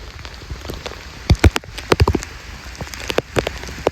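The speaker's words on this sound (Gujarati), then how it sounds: "વરસાદ પણ ધીમી ધીમી ધારે આવી રહ્યો છે" Gentle rain patters close by with scattered, irregular drops tapping on a surface, some sharper splats standing out over a soft steady wash.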